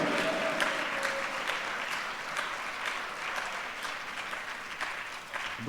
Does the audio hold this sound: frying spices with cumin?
no